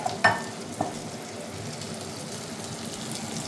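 Sisig hits a pan of melted margarine with a faint, steady sizzle and a couple of brief clinks or scrapes near the start. No one speaks.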